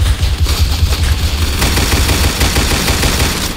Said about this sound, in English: Dude, I'm missing all my shots.